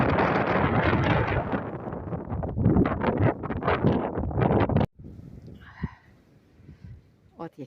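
Strong wind in a snowstorm roars and gusts loudly into the microphone, buffeting steadily, then drops off abruptly to a quieter whooshing with occasional bursts.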